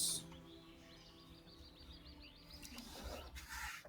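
Birds chirp in an outdoor ambience, with a quick run of repeated tweets in the middle and a few louder calls near the end, over a soft background hiss and no talk.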